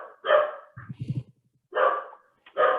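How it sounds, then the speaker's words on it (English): A dog barks in the background of an online conservation panel, short bursts of bright barking separated by a lower, softer run of yips, fairly loud and heard alone without talk. "hopefully you all cannot hear the dog barking in the background"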